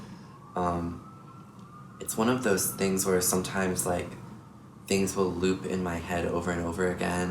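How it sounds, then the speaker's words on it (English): A siren wails in the distance, a faint rising tone running beneath a person talking close up. "Sorry about the sirens out there."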